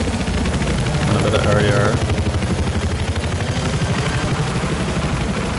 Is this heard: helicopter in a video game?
yes